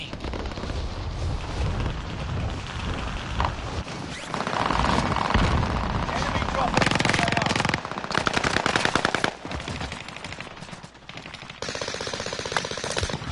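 Bursts of light machine gun fire in a multiplayer shooter video game, rapid rattling volleys repeating over several seconds with short gaps, loud and dense, sometimes overlapping other gunfire.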